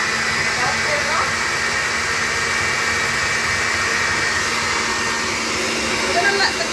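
An electric whisk beats butter and sugar for a cake, giving a loud, continuous whirring motor drone that holds steady from start to finish.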